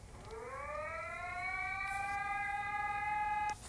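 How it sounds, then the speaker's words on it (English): Brasilia, Brazil emergency alert alarm: a steady electronic siren tone that rises in pitch over the first half-second, then holds loud and continuous for about three seconds before cutting off. "That's the literally worst alarm I ever heard."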